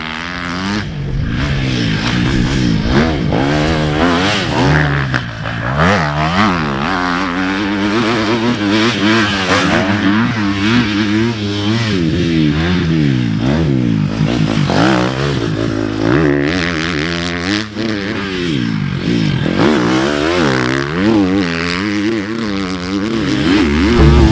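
A Husqvarna FC250 Rockstar Edition motocross bike, 2024-1/2 model with a 250 four-stroke engine, revs hard and steadily, its pitch rising and falling through repeated throttle blips and gear changes, loud and close throughout.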